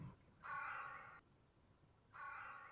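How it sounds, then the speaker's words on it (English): Two harsh croaks from a raven, a short pause between them, carry clearly across a quiet outdoor setting with only a gentle breeze behind them and no voices. "occasionally the croak of the raven"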